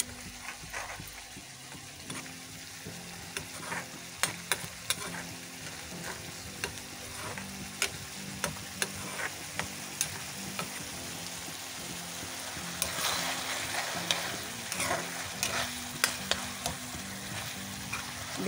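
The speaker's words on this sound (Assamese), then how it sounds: "ইয়াতো এতিয়া মই পনীৰখিনি দি দিম" Paneer and potatoes frying in a pan, a steady soft sizzle broken by repeated sharp scrapes and taps of a stirring spoon, close and fairly quiet.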